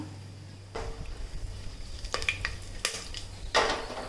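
Whole cinnamon, bay leaf and star anise fry in hot oil for biryani: a low sizzle broken by a few scraping, clattering stirs of a utensil against the pot, close and fairly quiet, with no speech.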